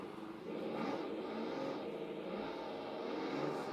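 A race car engine in a sim racing game revs and accelerates with a continuous rising whine, steady and fairly close, with no talk over it.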